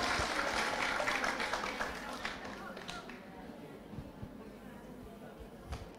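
Audience applause for a guest called up at an Indonesian education talk, dense clapping that is loudest at the start and fades to a thinner patter over six seconds, with no voices on top.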